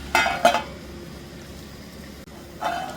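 A metal lid clinks onto a pan of bitter gourd (karela) sabzi cooking on low gas: two quick clanks close together, a quiet pause, then a softer third clink.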